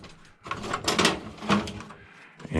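A workshop drawer being opened and closed while tools such as pliers and cutters are put away, heard as a few nearby sliding rattles and knocks with a sharper clack at the end.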